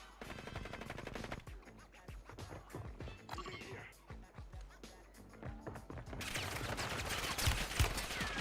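Video game gunfire crackles in rapid bursts and scattered single shots, moderately loud and fairly close, with brief pauses between volleys and a denser stretch of shooting toward the end.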